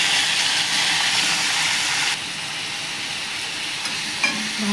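Tomatoes frying in hot oil in a pan with bay leaves and chilli, a loud close sizzle and hiss that steps down slightly as they are stirred, with a brief scrape near the end.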